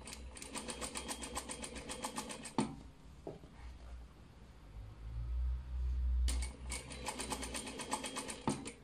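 Sewing machine stitching a hem with an American-style seam, running in two steady bursts of rapid, even stitching at the start and end, separated by a quieter pause with faint handling noise and a low rumble.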